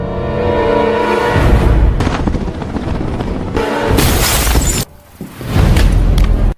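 A loud, sustained explosive roar with crashing, shattering bursts and rumbling booms, like a blast blowing out glass, ending in a final heavy burst.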